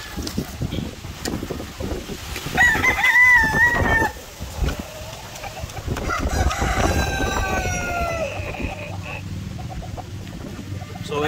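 A gamefowl rooster at a breeding farm crows loudly and close by, with a long drawn-out call, while wind buffets the microphone and someone talks nearby.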